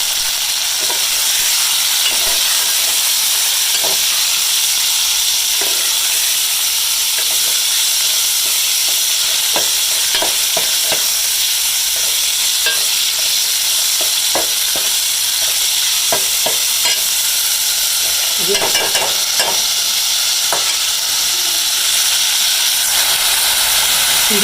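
Chicken keema with ginger garlic paste fries in a pan under a loud, constant sizzling hiss, with soft scraping strokes of the spoon repeating irregularly throughout and no talking.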